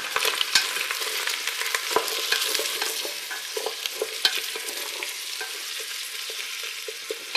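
Steady crackling sizzle of vegetables sautéing in a pot for a Bavarian cabbage stew, with occasional sharper pops and scrapes over a constant hiss.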